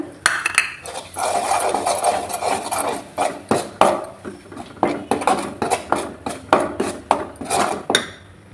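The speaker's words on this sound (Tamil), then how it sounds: "இப்போ இதை நல்லா நம்ம கிளறி விட்டுக்கலாம்" A gooseberry thokku being stirred in a pan with spice powder, turmeric and asafoetida, heard as repeated close wooden scraping and rubbing strokes in a steady rhythm, with no voices.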